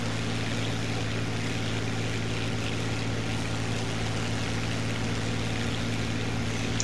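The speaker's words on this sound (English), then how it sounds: "I should turn my engine on." Aircraft engine in the War Thunder video game, a steady, loud propeller drone with a low hum that runs unbroken for the whole stretch, with no voices.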